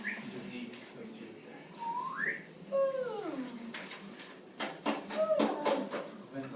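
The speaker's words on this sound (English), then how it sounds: "let's not whistle" A person whistles a short tune of rising and falling glides with a few held notes, indoors during a lesson, with speech-like sounds and other voices around the melody.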